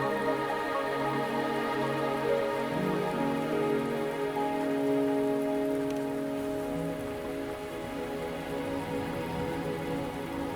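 Steady video-game rain patters on a surface, continuous and moderately loud, with low sustained tones humming beneath it and no voices.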